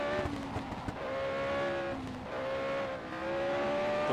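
CART race cars, including a Chevy, scream down the straight at the 1987 Budweiser/G.I. Joe's 200, high-revving engines whining loudly and steadily with rising and falling pitch as they shift gears, no voices.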